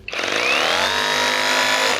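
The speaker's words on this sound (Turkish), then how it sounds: "Evet şimdi de bu kırıcı deliciyi test edeceğiz." An Assur brushless rotary hammer drill from a six-piece tool set spins up and runs, a loud steady motor whine close by that starts abruptly and holds for two seconds.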